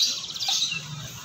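A male canary sings close by, a rapid run of bright trilled chirps and tweets repeating through the moment with no voice over it.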